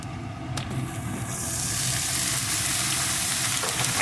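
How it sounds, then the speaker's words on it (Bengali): Eggplant pieces frying with potato pieces in a pan, a broad steady sizzle that swells and grows louder after the eggplant goes in, with no talking. "এখন বেগুনটাও আলুর সাথে একটু ভেজে নেব"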